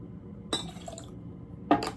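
Lemon juice poured into a jigger for a White Lady cocktail, with two short clinks and splashes of glass and liquid, one early and one near the end, and quiet between.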